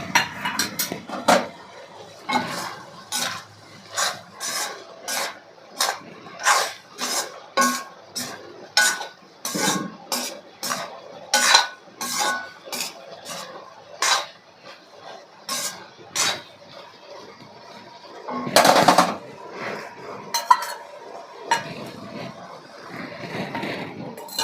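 A metal spoon scrapes and knocks against a pan while goat blood stir-fry with sprinkled pepper powder is stirred, giving a run of sharp, irregular clinks and taps close by with brief pauses between strokes.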